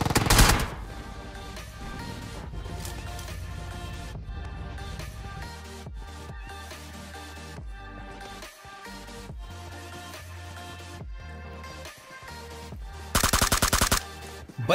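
Gunfire from the PUBG Mobile battle game, with a loud burst at the start and again near the end over a steady mix of game audio and music, sustained automatic fire crackling throughout.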